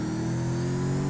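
A car engine in a GTA game holds a loud, steady revving drone, close and continuous with no talk.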